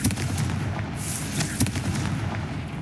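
The Confringo fire spell bursts in the Hogwarts Legacy video game with rumbling, booming explosions and crackling impacts, dense and loud across a few seconds.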